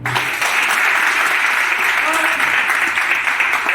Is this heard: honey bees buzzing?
no